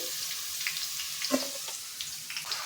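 Ivy gourd (tindora) frying in hot oil, a steady soft sizzle with faint bubbling crackles and a light stir or clink near the middle, no talking.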